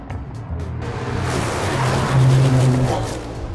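A car drives on a road with steady engine hum and road noise, the engine note rising partway through and holding loud and close until the end.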